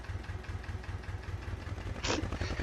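A Massey Ferguson MF 255 tractor's diesel engine runs at a steady, rhythmic low idle close by, with a brief hiss near the end.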